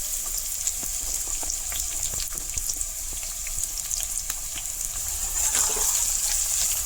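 Sliced onion fries in a little oil and ghee, crackling and spitting with a bright, steady sizzle and scattered sharp pops that grow slightly louder near the end, with no talking.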